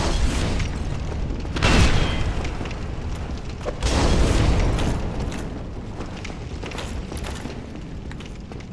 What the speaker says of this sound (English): So I'm going to use up my fire bombs.